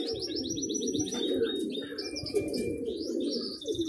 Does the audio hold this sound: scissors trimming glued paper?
no